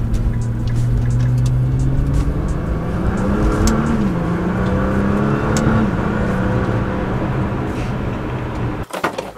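A Nissan GT-R or Audi R8 supercar steadily accelerates up a highway on-ramp, engine droning and rising in pitch under heavy road and wind roar, with a clunk near the end.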